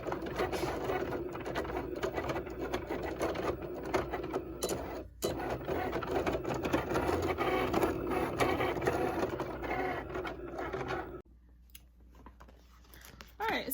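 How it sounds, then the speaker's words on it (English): A Cricut machine cutting a vinyl design, a steady whirring mechanical drone with rapid rattling carriage movements that stops partway through, leaving quieter room noise, while someone talks nearby. "I'm gonna load it into my machine here and go ahead and cut out my design."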